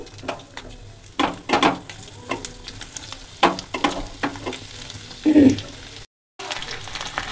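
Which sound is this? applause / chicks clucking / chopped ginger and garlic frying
chopped ginger and garlic frying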